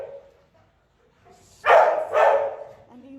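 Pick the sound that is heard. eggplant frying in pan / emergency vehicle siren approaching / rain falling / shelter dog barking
shelter dog barking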